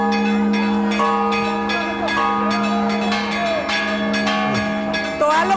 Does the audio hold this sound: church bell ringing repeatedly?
yes